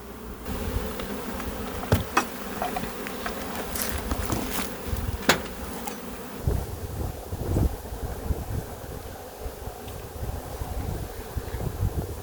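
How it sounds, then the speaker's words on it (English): A honey bee colony buzzing steadily during a hive inspection for varroa mite monitoring, a dense close drone with wind buffeting the microphone and a few sharp knocks from handling. "A lot of bees in this colony."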